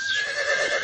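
A horse neighs within a Greek sports radio advert, a single bright whinny with wavering pitch that fills the short moment at close range with no talk over it.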